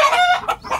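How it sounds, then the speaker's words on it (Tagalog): Frightened chickens during an earthquake, a short burst of loud, agitated clucking close by. "Takot-takot mga manok dito."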